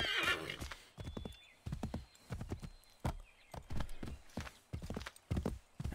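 Horse galloping in the Assassin's Creed 3 video game, rapid hoofbeats clip-clopping in an uneven rhythm throughout, with a whinny near the start, fairly close and moderately loud.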